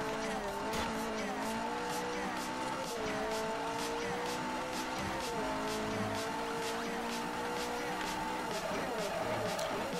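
Racing car engine in Forza Horizon on Xbox 360 during a street race, revving and shifting continuously through gears with steady tire noise, loud and close throughout.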